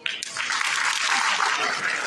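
A short burst of lively applause from an audience at a university World AIDS Day event honouring a chief, dense clapping that starts abruptly and holds steady throughout.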